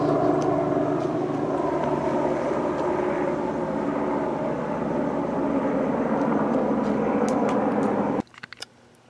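A helicopter drones overhead at night, a loud sustained rotor and engine rumble that holds steady for about eight seconds before cutting off abruptly into near silence with faint knocks.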